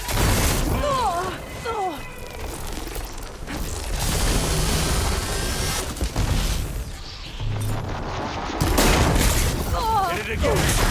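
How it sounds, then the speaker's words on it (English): Booming explosions and bursts of gunfire in the video game Horizon Forbidden West, loud and rolling throughout, with character voices speaking over the battle at intervals. "Firing!"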